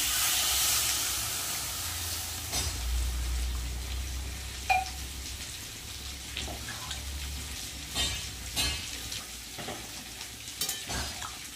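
Fried spice paste sizzles and hisses in a pan after water is added, the strong initial steam burst easing into steady bubbling with occasional stirring scrapes.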